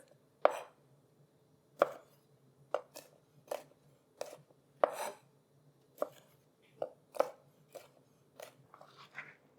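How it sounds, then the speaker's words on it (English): A knife chopping grape or cherry tomatoes into small pieces on a cutting board, a dozen or so separate close, crisp cuts at an uneven, unhurried pace in a quiet kitchen with no talking. "you just want to cut them into small pieces"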